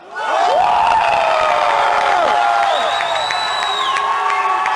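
A big convention crowd at an anime dubbing panel roars with cheers, whoops and shrill shouts to vote for Vegeta, rising fast from near silence into a loud, continuous wall of voices that stays strong throughout.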